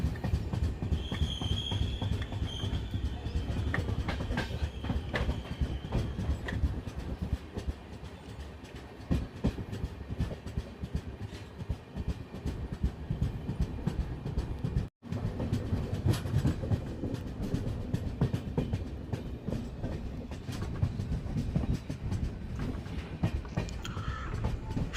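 A passenger train rolls steadily along the tracks into Ugar Khurd railway station, a continuous loud rumble with rhythmic wheel clatter over rail joints throughout.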